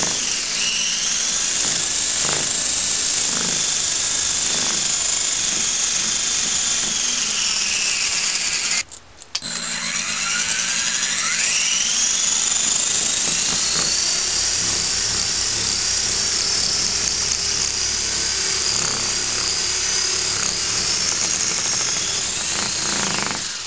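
A small engine is revved under throttle, giving a loud, sustained high-pitched buzzing drone with strong vibration. It cuts out briefly partway through, then rises again in a sweeping climb and holds steady to the end.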